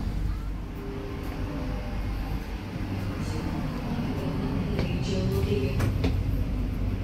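An Indonesian long-distance passenger train standing at Cirebon station on track 3, about to depart, gives a steady low rumble of idling machinery, with faint clanks and announcements in the background.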